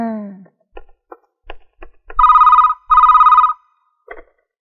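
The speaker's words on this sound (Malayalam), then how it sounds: "മാളവിക, തനിക്കൊരു ഫോണുണ്ട്" Telephone ringing at a hostel, two loud sustained electronic rings heard close up, with a few short clicks before and a brief voice fragment at the start and end.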